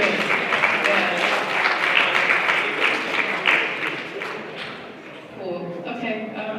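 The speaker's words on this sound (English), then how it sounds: "So y'all should get a round of applause for yourselves" Audience at a spring research symposium applauds steadily for several seconds, a dense wash of clapping that thins slightly toward the end, with some voices mixed in.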